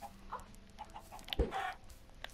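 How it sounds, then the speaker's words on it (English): Chickens cluck in a chicken farm in Minecraft, several short soft clucks and chirps scattered at irregular intervals, faint and close, with no talking. "Here's my chicken farm."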